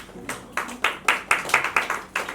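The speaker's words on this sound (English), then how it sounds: "Give yourself a round of applause." Audience members at a business seminar clap in a sparse, irregular run of about eight distinct sharp hand claps, close and fairly loud, with no talk over them.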